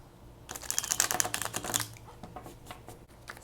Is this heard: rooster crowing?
no